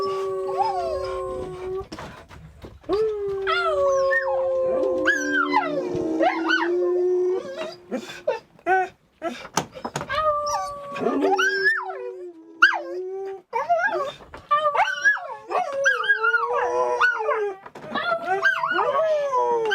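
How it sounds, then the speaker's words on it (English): Dingoes howl and yip in long, wavering tones, several voices rising and falling together, loud and close for the whole stretch. "Dingo howls"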